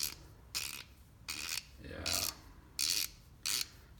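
A Snap-on 3/8 flex head ratchet is worked back and forth in six short bursts of rapid clicking, separated by near silence.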